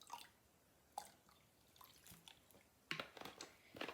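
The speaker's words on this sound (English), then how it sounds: "Splash of lemon juice." Lemon juice splashes into a cup of milk to curdle it for biscuits. A few faint, quiet drips and small splashes come close together, with no talk.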